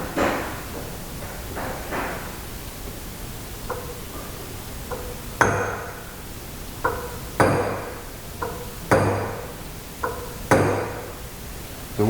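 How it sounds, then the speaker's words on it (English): Metal taps drive a woodruff key into place while a cam gear is fitted on the crank of a 1968cc VW engine. The sharp, ringing hits come close together in small groups after a few quieter knocks. "It's a woodruff key, so it's round, so I just hit the back side of it."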